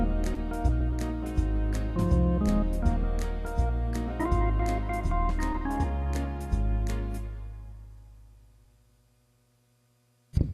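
A keyboard in a mixed swing accompaniment style plays a simple tune, with bouncing bass, chords and steady cymbal-like ticks that carry on, then fade to near silence before a brief final hit.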